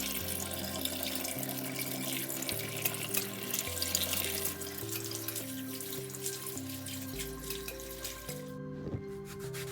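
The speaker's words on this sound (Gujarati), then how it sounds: "હવે આપણે ડુંગળી, લીલી ડુંગળી, મરચાં, ટામેટાં ને તીખા મરચાં ને ધોઈ લઈશું." Tap water runs steadily while onions, green onions, chillies and tomatoes are rinsed under it, with a continuous splashing wash beneath background music.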